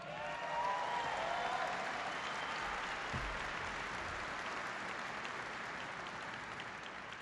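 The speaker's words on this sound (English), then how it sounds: "So give them a big round of applause." Troops at a military base in Afghanistan applaud in a dense, steady wash of clapping that fills the space, with occasional cheers rising from the crowd.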